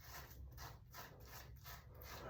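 A razor blade cuts facial hair during a gentle shave, making a close, dry, raspy scraping sound in several short strokes that come and go in a steady rhythm, with no talk.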